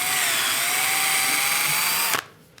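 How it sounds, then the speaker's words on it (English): A drill bores through a single piece of wood with a larger bit, a loud, steady high whine that holds for about two seconds and then stops abruptly, followed by quiet. "But I only want to drill through this first piece."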